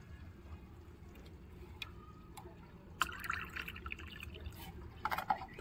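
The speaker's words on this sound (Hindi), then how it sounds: "इसमें आधा ग्लास में पानी डालूंगी" Water is poured into a homemade fertilizer solution made from fruit and vegetable peels, meant for hibiscus plants. Faint trickling and dripping grows into splashy pouring near the end, with a low background hum throughout.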